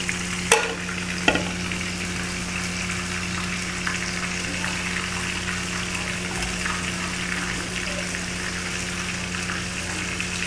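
Chicken pieces deep-fry in oil for biriyani at a home iftar party, making a steady, moderately loud bubbling sizzle that holds evenly throughout. Two brief clinks come early on, and there is no talking.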